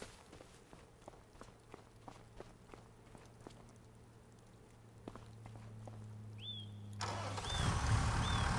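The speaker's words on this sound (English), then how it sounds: "I hope my tractor will still start." A tractor engine in Farming Simulator 25 cranks and fires up after a stretch of footsteps and a low idle hum, the start bursting loud near the end with a couple of short electronic chirps.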